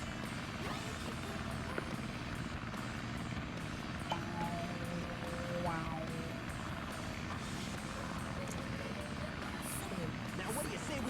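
A plane flies in the video game Sonic Adventure, a continuous propeller-like drone running under game effects and a voice talking over it.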